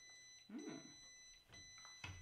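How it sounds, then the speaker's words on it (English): A steady electronic oven beeping tone rings faintly through the room, with a few soft, low thumps and rustles around it. "You guys hear that beeping?"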